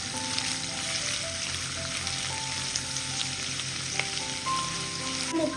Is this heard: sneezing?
no